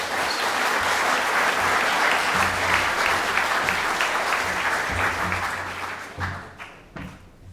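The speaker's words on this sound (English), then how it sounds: "with a warm round of applause" Warm, dense audience applause at an evening lecture fills the room at close range, holding steady before thinning into a few scattered claps near the end.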